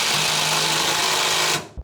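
A power tool whirs loudly and continuously, close up, as it tightens a sway bar bolt on a 1967 Dodge Dart, running for under two seconds before cutting off abruptly with a short thud.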